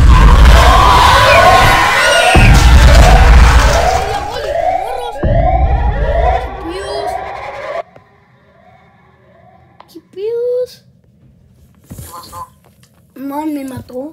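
Ambulance siren wailing in a haunted hospital video game: loud, repeating rising-and-falling sweeps over a noisy background for about eight seconds. Scattered game sounds and voices follow.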